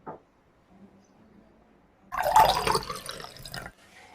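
Homemade watermelon juice poured into a glass, a short close splashing pour lasting about a second and a half after a quiet lead-in, with no talk.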